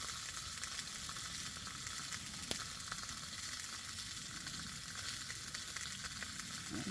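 Food sears in hot olive oil in a pan over a campfire outdoors, a steady close sizzle and crackle running evenly throughout with a brief louder pop near the middle.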